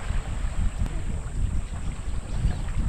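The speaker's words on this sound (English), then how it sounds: "the wind's a bit strong" Strong wind buffets the microphone with a steady, low rumble on a beach at Kurrimine, with no voices heard.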